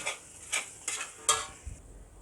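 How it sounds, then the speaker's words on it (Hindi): A spoon stirring whole cumin seeds into masala in a metal karahi, a few distinct scraping clinks in an uneven rhythm, close and fairly crisp, with a faint low thump at the end. "साबुत ज़ीरा, वो मैं मिक्स कर लेता हूँ।"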